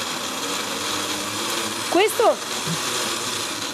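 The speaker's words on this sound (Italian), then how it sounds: "Questo è un frullatore, diciamo, normalissimo, basico, normalissimo." A basic, ordinary kitchen blender whirs steadily, with a brief louder surge of motor pitch rising and falling near the middle, heard close up in a kitchen.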